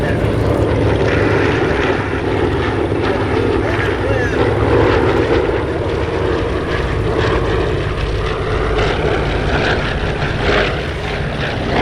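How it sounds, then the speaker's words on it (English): Loud, continuous drone of World War II warbirds' radial piston engines passing close at an airshow in Terre Haute, a throbbing roar that fills the whole stretch with a voice talking underneath. "These radial piston engines, different from our automobile engines"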